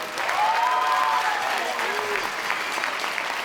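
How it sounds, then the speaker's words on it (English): An audience at a children's song performance bursts into loud, sustained applause, a dense wash of clapping that carries on steadily for several seconds, with a voice heard briefly near the start. "Can you give us a round of applause if we energize and enhance your spirit tonight?"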